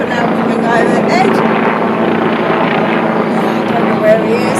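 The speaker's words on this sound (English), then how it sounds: "it sounds like there's a chopper now coming overhead" A helicopter flies overhead beneath an overcast sky on a calm, nearly windless day outdoors, giving a loud, steady broadband rumble that holds throughout without fading.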